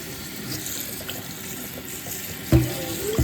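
Running tap water pours steadily over cooked spaghetti being rinsed in a sink, a continuous close wash with a couple of louder splashes near the end.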